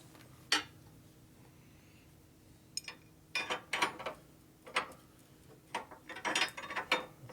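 A wrench tightens a nut on the rear master cylinder of a 1990 FXR custom motorcycle, giving quiet, close, irregular metallic clicks and ratcheting bursts scattered over several seconds.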